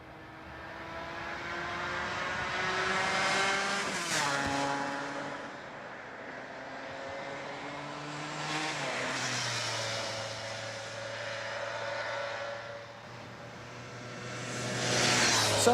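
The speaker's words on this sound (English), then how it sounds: "Still got the same engine as we've always had, the RGV Suzuki 250cc motor." Suzuki RGV 250cc two-stroke motorcycle engine revving and pulling through gears, its raspy note climbing and dropping repeatedly before settling into a steady drone, loud and close.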